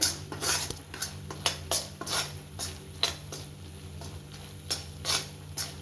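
Wheat flour halwa bubbling in ghee in a pan, stirred with a utensil that scrapes and clinks against the metal in an irregular rhythm over a steady low frying hiss, close up with no talking.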